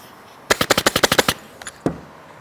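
A staple gun fires into a motorcycle seat cover in a quick burst of about ten sharp, evenly spaced clacks, followed after a pause by a few fainter clicks and one last snap.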